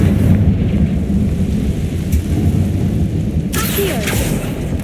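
A Confringo blast spell explodes in Hogwarts Legacy, a deep rumbling roar that fills the scene, then a sharper burst near the end.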